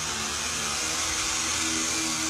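Motorized door of a 3D printer's auto-ejection system closing, a continuous loud whirring hum like a small motor, steady from start to finish.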